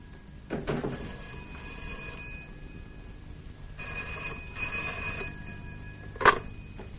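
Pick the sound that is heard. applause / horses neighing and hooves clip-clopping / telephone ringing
telephone ringing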